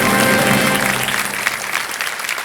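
Studio audience on the Indian quiz show KBC bursts into loud applause, dense clapping filling the room and slowly thinning over a few seconds.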